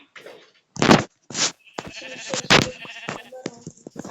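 Several short bleats from a game sheep, loud and close, separated by brief pauses, with some quieter talking mixed in.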